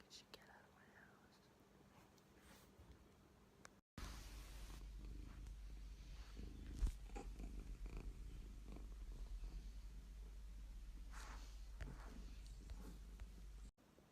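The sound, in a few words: cat purring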